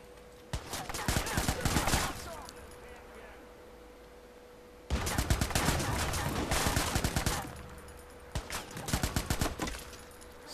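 Rapid gunfire bursts in the video game Watch Dogs, loud repeated volleys of shots in two long stretches with a pause between, then a shorter final burst.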